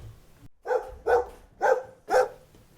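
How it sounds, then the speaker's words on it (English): A dog barks four times in a slow, evenly spaced series, moderately loud against a quiet background. "as the barking continues"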